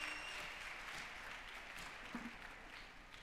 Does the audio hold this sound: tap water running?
no